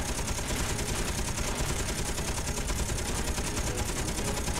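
A Gatling gun fires in Space Engineers, a steady dense mechanical roar of rapid shots that holds continuously at a fairly even loudness with no talking.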